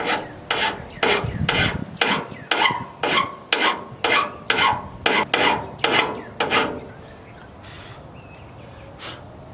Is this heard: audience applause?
no